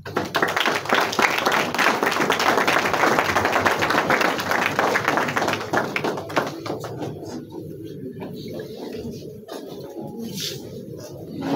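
An audience claps for the culture minister at a Congolese ceremony, a dense loud round of applause that thins and tapers off after about six seconds, with a few scattered claps and faint voices.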